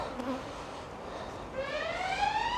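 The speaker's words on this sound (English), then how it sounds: "getting rid of them bees off of there" Honeybees buzzing close by as they are cleared off a hive frame during a spring inspection, a droning hum that swells with rising pitched tones in the latter half.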